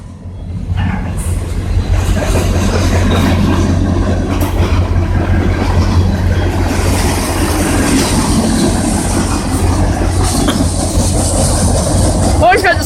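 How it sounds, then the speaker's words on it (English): A CN freight train rolls through Kingston station, a loud, steady rumble with rhythmic wheel clatter and a hum throughout, close at hand. "I didn't even see that CN train coming in there."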